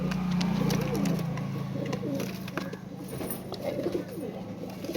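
Pigeons cooing at a pigeon farm where birds are kept for sale, low soft coos heard close by over a steady background hum.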